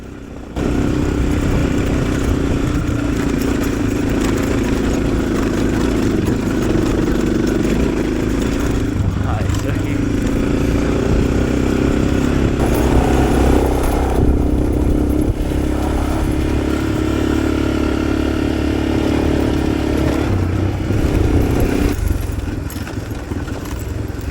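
A Suzuki DR650 and a Kove 450 dual-sport motorcycle ride an alpine trail, their engines droning loudly and continuously with rough, rising and falling revs throughout.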